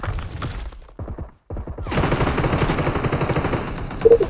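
Rapid machine-gun fire in a video game shooter, a sharp burst, a short gap of silence, then sustained loud automatic gunfire with a few heavier impacts near the end.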